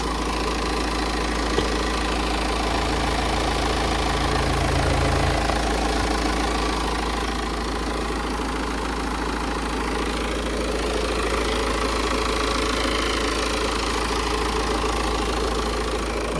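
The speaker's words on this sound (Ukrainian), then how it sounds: "Двигун також працює як часики," A Peugeot 508 engine idles steadily and evenly from a cold start, a continuous low rumble with no speech.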